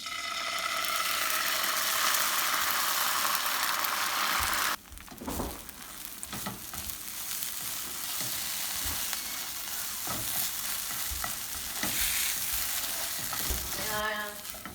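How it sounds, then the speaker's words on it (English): Oil heating in a black pan on the stove, giving a steady, close sizzle with clicks and light stirring or scraping noises over it. No one speaks. "I'm heating up my pan with some oil in it to get cooking"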